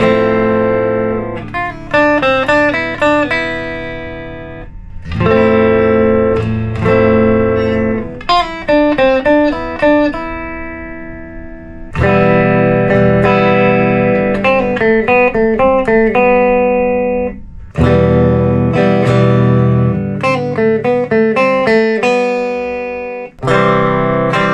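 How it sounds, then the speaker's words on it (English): Clean electric guitar, a Squier, through a Fender Deluxe Reverb tube amp with a warm tone, plays chords and arpeggiated phrases in several bursts, with brief pauses between passages. "we're running our clean sound through a Fender Deluxe Reverb"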